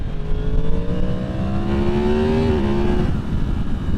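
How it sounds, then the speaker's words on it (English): A 2023 Yamaha MT10 motorcycle with a stock exhaust growls close by, its engine revving upward in a rising whine, then dropping sharply as it shifts and settling into a steady drone. "stock exhaust does not sound bad. I wouldn't mind it being louder. But seriously, it's got that R1 growl to it"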